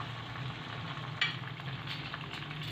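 Tomatoes sizzle in frying masala for a lobia gravy, a steady faint hiss of oil with a soft clink as they go in and light stirring textures.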